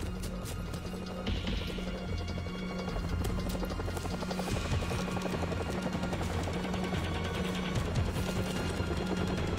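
Helicopter in a multiplayer video game shooter, a steady loud rotor drone running throughout, overlaid with dense gunfire, crashes and impact noises from close battle action.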